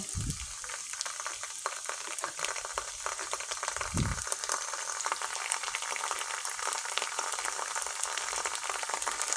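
Ground spice paste and ginger paste frying in a pan for khichuri, a steady close sizzle throughout with a couple of low thuds near the start.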